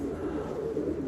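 A racing pigeon hen coos in a low, continuous throaty rumble, close and steady throughout the short stretch, with no other sounds over it.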